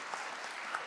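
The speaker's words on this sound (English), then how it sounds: "round of applause for all these amazing people" Brief burst of audience applause at a youth graduation presentation, dense steady clapping from a crowd, with no talking.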